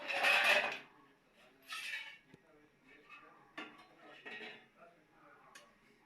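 A metal lid lifted off a pan of steamed chitoi pitha, a Bengali rice-flour cake, giving a loud clatter at the start, then softer clinks and scrapes of cookware with a second rattle and a few light taps.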